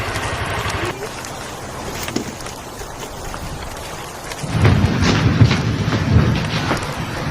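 Steady rain pouring outdoors with hiss throughout, swelling louder partway through, and a low rumble of thunder underneath.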